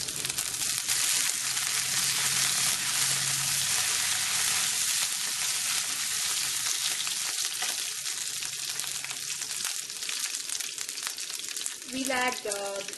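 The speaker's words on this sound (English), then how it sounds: "We'll just fry this a bit." Cauliflower sizzles loudly and continuously as it fries in a pan, a dense crackling hiss that stays steady throughout, with a brief knock or clatter near the end.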